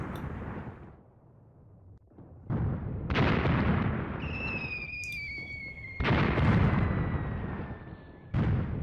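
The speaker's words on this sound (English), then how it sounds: "the mortar hits landing all around, but some are getting dangerously close" Mortar shells burst close by in the war game Graviteam Tactics: several loud, heavy blasts come in sequence, and thin whistling tones hang over the rumble between impacts.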